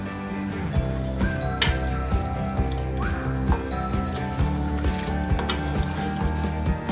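Ginger garlic paste fries in a masala for mutton karela and sizzles steadily in a loud, continuous crackle, punctuated by frequent clinks and scrapes of a utensil against the pan.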